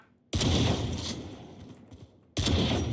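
Gunshots in the video game Outlaw come as two loud, close bursts, one long volley followed by a shorter one after a brief pause.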